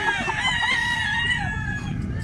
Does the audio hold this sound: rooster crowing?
yes